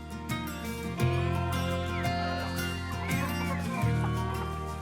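Speckled Sussex hen and her older chicks clucking close by outdoors on a sunny morning, a steady run of soft repeated clucks and peeps with no talk.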